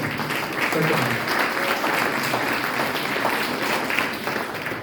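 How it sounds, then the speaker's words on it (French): An audience at a sub-prefect's New Year address in Argelès-Gazost applauds steadily, a dense, even wash of clapping that holds for several seconds, with a voice faintly present beneath it. "Je décompte le temps d'applaudissement"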